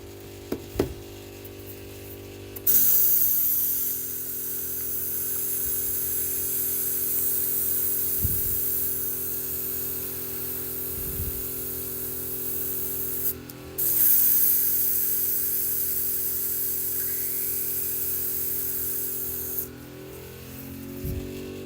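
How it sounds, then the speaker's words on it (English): An airbrush being cleaned out sprays in long, loud, continuous hissing bursts, with brief pauses between them and small clicks and knocks underneath. "Just cleaning out some airbrush."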